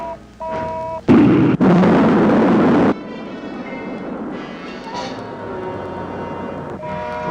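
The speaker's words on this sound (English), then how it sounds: "Rocket 2, second stage. Fire." Rocket second stage firing in a 1958 science-fiction film: a sudden loud roaring burst lasting about two seconds, cut briefly, then a steady dense rumble that drops away to quieter tonal film music.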